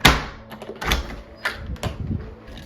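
A vehicle door being handled: a series of clunks and latch clicks, several distinct knocks spaced over a few seconds, close and moderately loud with no talking.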